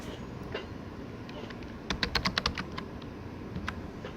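Quick bursts of typing on a computer keyboard as a name is entered, a rapid run of clicky keystrokes in the middle with a few scattered taps before and after, over faint background noise.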